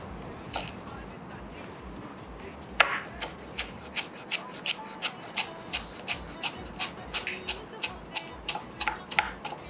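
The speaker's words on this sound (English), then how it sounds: "we will be chopping coriander leaves" A knife chops coriander leaves on a cutting board in quick, evenly spaced taps, speeding into a steady rhythm after a few slower strokes.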